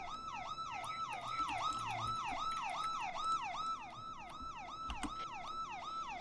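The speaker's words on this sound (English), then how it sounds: "I got your siren." A video game emergency vehicle siren wails in a fast, regular up-and-down cycle, loud and continuous with nothing else over it.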